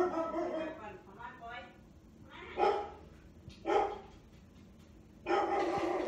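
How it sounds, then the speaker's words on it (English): A pet dog barks indoors in a few short, separate bursts, moderately near, between stretches of quiet room tone. "What is my dog barking at?"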